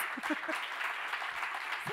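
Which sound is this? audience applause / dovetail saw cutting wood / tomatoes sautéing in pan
audience applause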